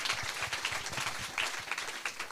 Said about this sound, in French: Est-ce qu'on peut l'applaudir quand même parce qu'on le découvre?